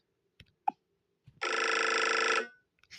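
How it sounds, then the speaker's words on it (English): Nokia Tune ringtone from a Nokia 1200 phone's tiny speaker, a bright, buzzy melody that plays loudly for about a second after a few short clicks and taps, then stops. "Nokia Tune, which was the classic."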